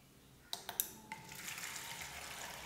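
An Arduino water filling machine refilling a bottle: a few sharp clicks and pings, then a soft, steady rush of water pouring into the bottle, faint and close, with no talking.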